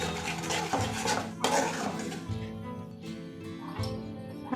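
Egg curry with cream, kasuri methi and salt is stirred and mixed in a pan, giving soft scraping and clinking of a utensil against metal over a low cooking hum, close and continuous.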